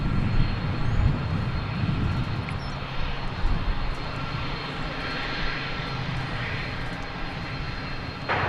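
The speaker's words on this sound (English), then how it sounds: "we're going to get a nice close look at planes like this. An A300, which came in from parts unknown" An Airbus A300 taxis near the watcher at DFW Airport at night, its engines giving a loud, steady roar and whine with gusty wind mixed in throughout.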